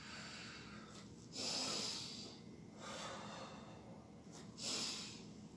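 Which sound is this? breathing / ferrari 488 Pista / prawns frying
breathing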